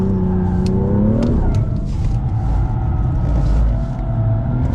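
BMW M2 sliding through a corner on a slow circuit at a driving center, engine droning loud and close with revs rising then settling as the car drifts, no voices.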